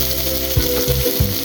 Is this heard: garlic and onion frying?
yes